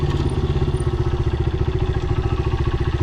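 A scooter rides along a downtown Los Angeles street, its motor a loud, close, steady buzzing drone with a fast rhythmic pulse throughout.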